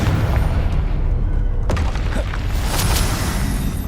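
Confringo blasting spell going off in the Hogwarts Legacy video game: a sustained low booming rumble with a sharp crack near the middle and bright crackling bursts toward the end, loud and dense throughout.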